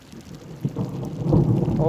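Thunder rumbles over steady falling rain on the Mekong River beneath the Laos–Thailand bridge, a broad low roar that swells louder toward the end of the short stretch.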